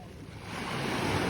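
Sea waves wash onto a clean white-sand beach at a camping site in Dipaculao, Aurora, a steady broadband surf roar that swells slightly louder toward the end, with some wind noise and no talking.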